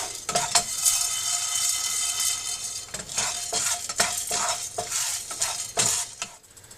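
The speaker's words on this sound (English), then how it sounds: "I'm also going to dry roast peppercorns." Peppercorns dry-roasting in a pan for a Mangalorean chicken curry, stirred with a steady run of scraping, rattling clinks against the metal, close and fairly loud, with no voices.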